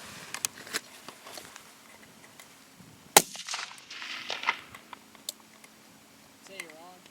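A single sharp rifle shot from a Mosin firing 7.62x54R Prvi Partizan 180 grain softpoint ammunition, loud and close with a ringing decay, amid light outdoor handling noises.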